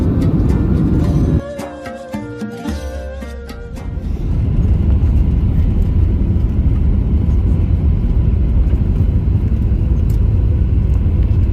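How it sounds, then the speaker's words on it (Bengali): Passenger airplane landing at Istanbul Airport, a steady loud engine roar with a short dip and shift in the middle before a sustained rumbling rollout continues to the end. "আমাদের বিমানটি এখন তুরস্কের বাণিজ্যিক শহর ইস্তাম্বুলের ইস্তাম্বুল এয়ারপোর্টে ল্যান্ড করলো"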